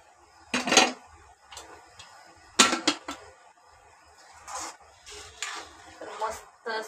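Cooked chickpeas and potatoes tipped into a cooking pan for a Mumbai-style chole batata, giving a few scraping, clattering bursts of utensil on pan, close and moderately loud, with quieter shuffling between.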